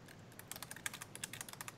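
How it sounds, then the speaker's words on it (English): Rapid typing on a computer keyboard, a quick run of close, light key clicks at an uneven rhythm, faint and alone. "I hear typing."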